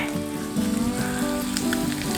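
Oil crackles and pops in a hot electric grill pan during a Thai barbecue, with a steady sizzle and scattered sharp spits throughout, fairly quiet and close.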